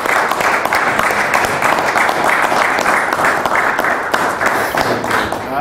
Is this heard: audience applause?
yes